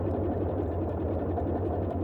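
A Wing42 Boeing 247D radial engine idling in a flight simulator game gives a steady, close, low rumbling drone with constant loudness and no talk.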